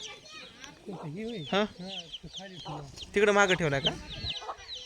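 Free-range desi (gavran) chickens cluck on a roomy farm, their calls mixed in with a man's nearby conversation that runs over most of the stretch.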